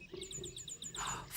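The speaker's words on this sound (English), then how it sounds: "4 calling birds all in one go" Animated calling birds chirp in a quick, evenly spaced run of high tweets over a soft musical background, ending in a brighter burst.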